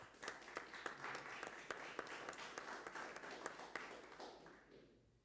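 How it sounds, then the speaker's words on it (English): Applause from a demoscene competition audience after a ZX Paintbrush graphics entry, scattered claps at first, building to a fuller patter and fading out near the end. "Round of applause, please."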